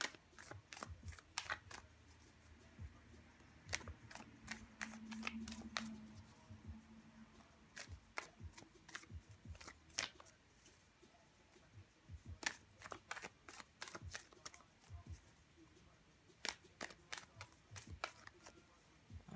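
A tarot deck is shuffled and cut, giving repeated crisp riffling card snaps in quick bursts with short pauses, close and fairly quiet, no talking.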